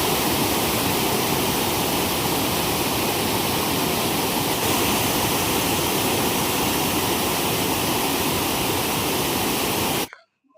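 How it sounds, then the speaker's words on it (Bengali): A waterfall at Jaflong, Bangladesh pours in a loud, steady, unbroken rush of water for about ten seconds before cutting off abruptly. "দেখুন ঝর্ণার পানির স্রোতটা"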